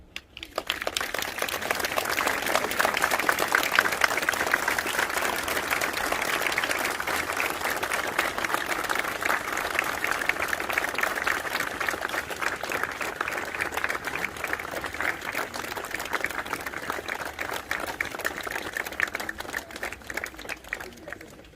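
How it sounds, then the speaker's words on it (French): Sustained crowd applause at an outdoor memorial walk in Champigny-sur-Marne, a dense, even wash of many hands clapping that holds steady for about twenty seconds before tapering slightly. "Vous pouvez applaudir."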